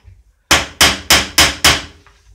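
Five evenly spaced, loud hammer blows strike metal to flatten the tip of a drill bit, each a sharp ringing impact, close up with no talk.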